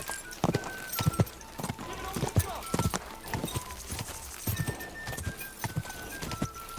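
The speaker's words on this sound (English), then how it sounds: "o cavalo dele é mais rápido" Horse hooves clip-clop at a fast gallop in the medieval video game Kingdom Come: Deliverance 2, uneven thudding strikes mixed with faint jingling and tonal game sounds, while voices talk over them.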